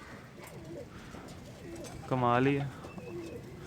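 A teddy pigeon gives a short, soft coo near the middle, close and clear, while someone speaks over quiet room noise before and after it.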